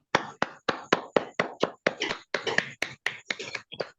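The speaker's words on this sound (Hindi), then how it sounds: "तो सर के धन्यवाद के लिए हम सब मिलकर एक बार जोरदार और शानदार तालियों के साथ हम सर को थैंक्स करते हैं" A small group claps together in thanks to a basic-training instructor, with about a dozen distinct, slightly uneven handclaps close by that grow denser toward the end. No one speaks.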